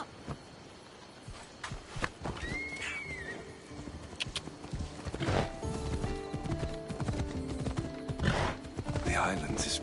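Horse hooves clip-clopping in Assassin's Creed Odyssey as a rider moves along, a steady rhythmic trot with a whinny early on, over game music and ambience.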